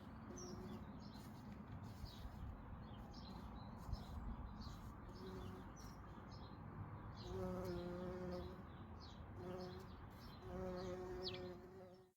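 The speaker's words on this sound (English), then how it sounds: "there are some little bees flying around. I think they are the solitary bees, the mining bees" Small solitary mining bees hover around spring flowers in a Welsh garden, their faint droning buzzes rising and fading as they pass close by, while birds chirp lightly in the background.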